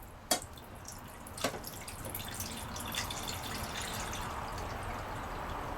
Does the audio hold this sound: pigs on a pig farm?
no